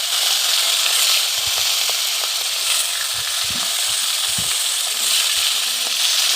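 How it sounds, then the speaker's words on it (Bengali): Rohu fish pieces frying in hot oil in a wok, a steady broadband sizzle running the whole time with faint crackles and pops, close and loud, with no talking. "তেলের ভিতর মাছগুলোকে আমি আস্তে আস্তে করে ছেড়ে দেব।"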